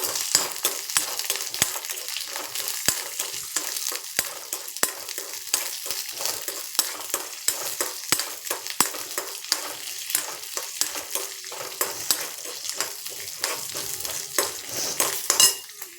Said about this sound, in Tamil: பூண்டு பல்லையும் போடுறேன், இந்த பச்சை மிளகாவையும் போடுறேன். இதை நல்லா வதக்கிக்கலாம்.